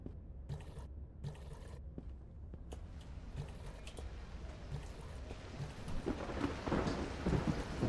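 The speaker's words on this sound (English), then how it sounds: "Listen to that thunderstorm." Thunderstorm in the City Garden Harvest video game: steady rain patters and splashes while low thunder rumbles roll through, growing louder and heavier toward the end, with no voices.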